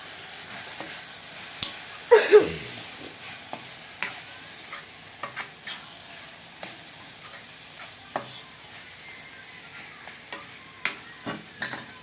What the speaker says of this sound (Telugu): సరిపడంత గరం మసాలా వేసి కలుపుకోవాలి.